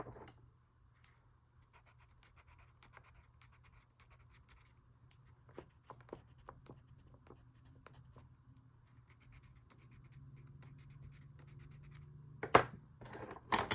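A pencil scratches horizontal stripes across pages of an art journal, soft close scraping strokes in short irregular bursts over a quiet low hum, growing louder and denser toward the end.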